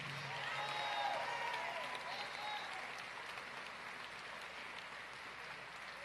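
A big funeral crowd for Jesse Jackson breaks into loud, sustained applause for a congressman, the clapping swelling early and then holding steady with some cheering and voices mixed in.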